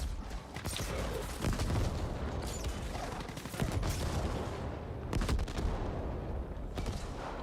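Rocket weapon fire in the action game The Ascent, heavy blasts and bursts repeating over dense continuous combat noise, loud and close with several sharp impacts.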